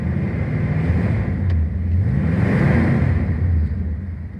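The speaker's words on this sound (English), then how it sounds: "I'm gonna give it the gas to show you how it's working nicely." A 1970 Plymouth Superbird with the Six Pack engine, just started and idling, is given a quick rev. It gives a deep, close rumble that swells and then settles back over a few seconds, with no talking.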